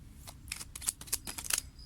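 Tarot cards are shuffled and pulled by hand, a quick run of soft riffling flicks and papery snaps, close and quiet with no talking.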